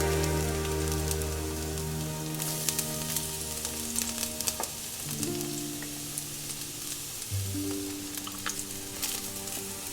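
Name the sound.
chopped garlic frying in a pan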